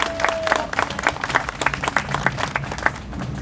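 Crowd applause at an outdoor protest rally, many hands clapping in a dense, sustained burst with sharp individual claps standing out, moderately loud, with a brief tone at the start.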